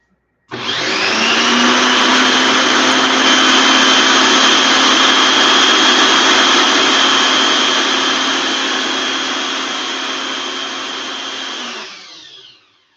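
Blender grinding onions, ginger and chilies into a paste for Indian fusion vegetarian cooking, one steady loud whir running about twelve seconds alone before spinning down.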